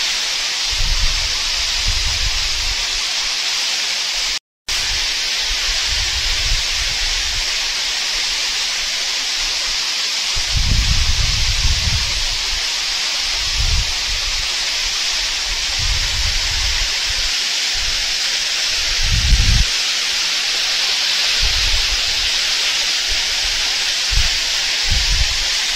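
Arbi Falls waterfall roars as a constant, loud, hissing rush of water, with intermittent low rumbling gusts of wind buffeting beneath the steady cascade.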